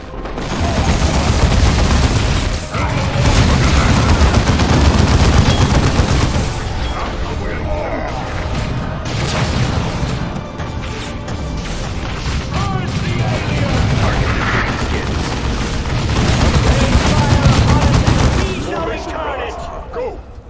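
Space Marine squads trade gunfire in a Dawn of War 2 battle: sustained rattling bursts and heavy booms keep up a loud, dense barrage, briefly easing near the start and end, while voices speak over the fighting.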